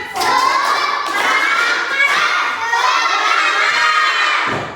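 A class of schoolchildren shouts a loud, rhythmic spirit chant together during a classroom lesson, with a few claps mixed in. The group voices are close and sustained for the whole stretch.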